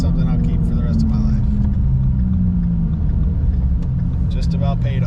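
Shelby GT350 engine rumbling and revving up, a steady loud low drone running throughout, close by.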